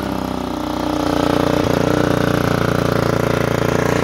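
A Romet K125 motorcycle engine, kick-started with the choke on after sitting unused for a long time, catches and settles into a steady, fast idle that chugs on close by with no one talking.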